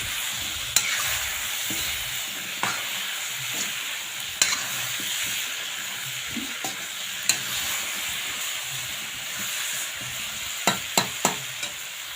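Amla pickle with whole coarse spices sizzling and frying in a pan, a steady hiss broken by scattered stirring clicks and scrapes, close and moderately loud, no voices.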